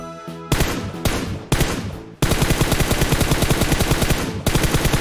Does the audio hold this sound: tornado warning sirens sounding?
no